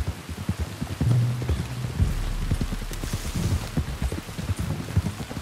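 Rain falls in the video game Red Dead Redemption 2 near a fort, a steady patter with scattered drops and low rumbling, mixed with soft thuds of movement.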